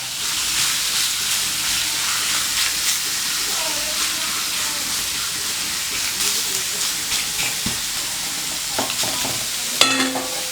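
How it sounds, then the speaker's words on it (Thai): Pork belly stir-frying in a little oil over medium heat for a pork chili paste, giving a loud, steady sizzle and hiss throughout, with occasional scrapes and knocks of stirring. "ใส่น้ำมันเล็กน้อยนะฮะ เพื่อเป็นสื่อเป็นสื่อ แล้วก็หมูสามชั้นนะครับ เอาลงไปเกี่ยวเลยไฟกลางๆนะครับ"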